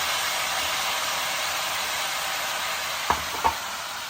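Broad beans and tomatoes frying in a pan, with a steady close sizzle throughout and a couple of brief scraping stirs near the end.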